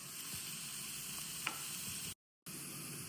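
Onions sautéing in a pan for an Easter chicken roast, a steady soft sizzle with a few faint stirring scrapes, broken by a brief gap of silence near the end.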